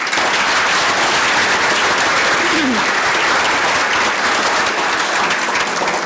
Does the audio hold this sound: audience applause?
yes